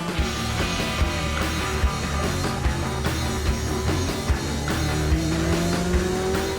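Car driving on the wrong side of the road into oncoming traffic during a police chase, a loud continuous engine roar with tyre noise and passing vehicles, dense and close throughout.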